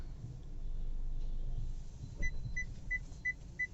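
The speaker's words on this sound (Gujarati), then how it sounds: "આમાં built in reverse parking sensors પણ આવી જશે અને દેખાડી દઉં. આ રીતે પાછળ કાંઈ હશે એટલે બીપ બીપ બીપ અવાજ આવશે." Reverse parking sensor on a 2015 Hyundai Grand i10 Sportz petrol hatchback beeping five times in a steady rhythm, close and clear, after a low engine hum fades.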